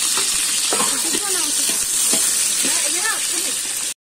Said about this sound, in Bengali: এই দেখো পটল ভাজা।